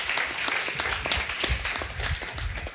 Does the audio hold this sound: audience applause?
yes